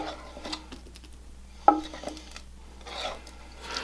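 A spoon scraping and rubbing as hot peanut brittle is spread out in a pan, soft intermittent rasping strokes with one sharper clink of metal, close and quiet.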